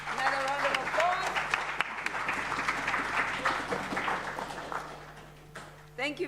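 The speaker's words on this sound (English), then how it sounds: "Another round of applause." Audience applause at a university innovation festival, a steady wash of clapping lasting several seconds with a host's voice and crowd murmur mixed in, fading toward the end.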